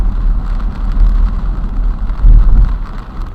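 Rain falls during a drive in bad weather, a loud, dense, continuous hiss with a low rumble from the moving car.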